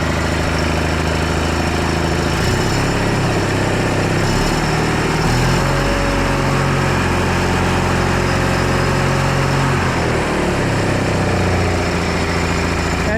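A small engine on farm equipment running with the choke partly out, a loud continuous close drone with slight shifts in pitch and load, no talk.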